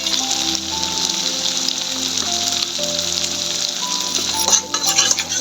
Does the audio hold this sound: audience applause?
no